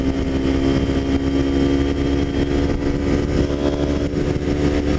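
Honda CB motorcycle riding on an open road: a loud, close engine drone holds steady for several seconds as the throttle opens, with no voices.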